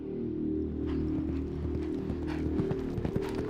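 Hooves of a 700-kilo horse at full gallop, a rapid steady clip-clop rhythm that is close and continuous, with no voices.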